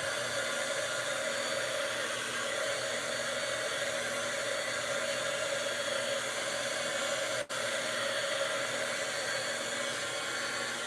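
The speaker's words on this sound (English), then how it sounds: "I'm going to put some heat on them because the heat will make them flatten out." A heat tool blows steadily on craft leaves for a Dollar Tree pumpkin project, a continuous hair-dryer-like hiss and whir with one brief cut near the end.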